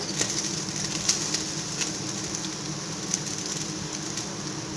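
Spoonfuls of prawn and onion fritter batter fry in hot oil, making a steady, fairly loud hiss dotted with occasional small pops and crackles and no voices.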